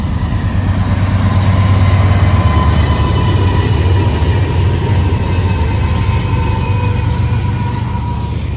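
A BNSF freight train passing close by at a Bayview Road crossing in Blasdell, with a loud, continuous rumble of railcars and engine drone throughout, no talking.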